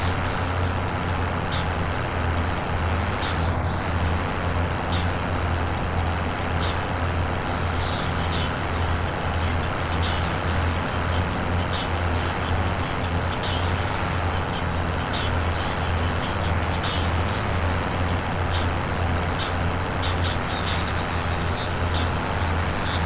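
A vehicle driving in Call of Duty Warzone, its engine putting out a steady, loud low drone throughout, with faint clicks and rattles over the top.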